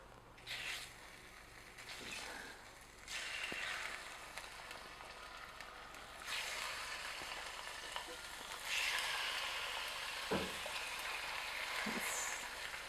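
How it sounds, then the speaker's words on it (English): Fish fillets fry skin side down in oil in a pan, giving a close, continuous sizzle that swells in several waves with occasional soft knocks, and no one talking. "I'm going to get my fish. I'm going to cook it skin side down."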